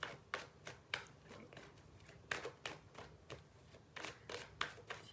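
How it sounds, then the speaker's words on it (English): Tarot cards are shuffled by hand in quick, crisp riffling bursts, close and fairly quiet, with short pauses between shuffles. "so just going to shuffle"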